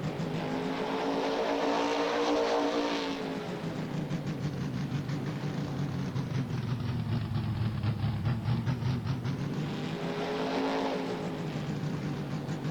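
A truck engine in Farming Simulator 19 revs hard at around 7,000 RPM, a loud sustained high-pitched whine that swells and dips in long waves, with no voices over it.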